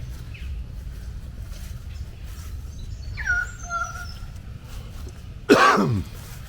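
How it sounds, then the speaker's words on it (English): A single sharp, close cough breaks in after a quiet stretch where a few birds chirp softly in the background. "a bit of a cough still"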